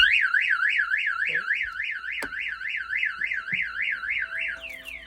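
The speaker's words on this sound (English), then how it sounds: "If I open this compartment here, it's going to fire off the alarm." A Contender boat's electronic alarm, set off by opening a compartment, wails in a rapid warbling siren pattern, repeating steadily, with a few faint clicks and knocks underneath before it stops.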